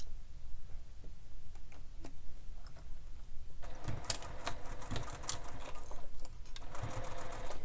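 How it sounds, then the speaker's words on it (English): A sewing machine stitches a curved bag seam, starting as quiet intermittent clicks and then running in steady bursts of rapid mechanical ticking and whirring, close and fairly loud. "I'm going to sew this using the seam allowance given in the pattern"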